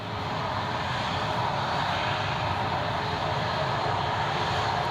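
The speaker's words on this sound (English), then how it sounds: "British Airways just vacating there now." A British Airways airliner rolls off the runway at Newcastle International Airport, heard as a steady, broad engine roar at moderate distance, constant throughout with no voices.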